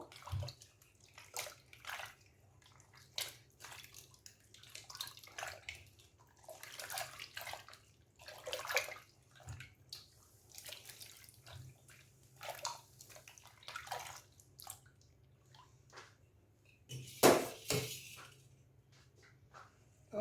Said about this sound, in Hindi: इस तरीके से हम इसमें हमने ठंडा पानी डाला है और इस तरीके से घुमा घुमा के इसको